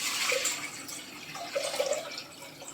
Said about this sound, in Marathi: असं मोठं पातेलं मी घेतलेलं आहे आणि त्याच्यात असं भरपूर सारं पाणी टाकायचं